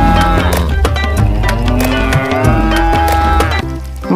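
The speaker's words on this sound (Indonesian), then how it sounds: "Dan ini sapi beserta suaranya." A toy cow gives a long electronic moo over a busy, jingly music loop, loud and close, cutting off near the end.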